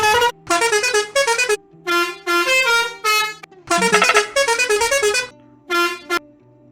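Bus horns from Bus Simulator Indonesia blare in a rapid series of loud musical honks, several distinct melodic horn patterns separated by short silences.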